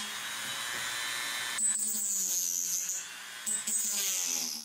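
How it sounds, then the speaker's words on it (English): A Dremel rotary tool trims plastic protrusions on the back cover of a Lenovo Legion Go handheld, giving a high, steady whine that starts abruptly, holds close and loud, dips briefly, then picks up again. "here's where the Dremel came in. I carefully trimmed both of the protrusions"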